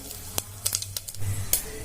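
Mustard and cumin seeds crackle and pop sporadically in hot oil, sharp close spits over a faint sizzle.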